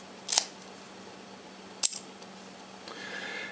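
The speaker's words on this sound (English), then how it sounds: "when you open it up to expose the shutter release, you can take a picture." Two sharp mechanical clicks about a second and a half apart from the shutter release of a Minolta-16 16mm sub-miniature spy camera, close and crisp over a quiet room hum.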